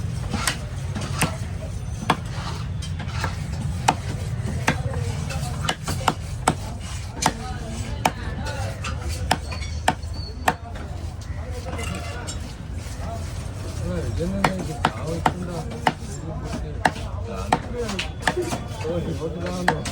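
A big trevally fish is chopped at a fish market in Kasimedu, with repeated sharp cleaver strikes at irregular intervals over steady background noise and talk.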